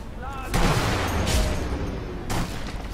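In the video game Sniper Elite V2, an explosion lands with a heavy booming blast, followed by a couple of further rumbling bursts of game gunfire and impact noise within a few seconds.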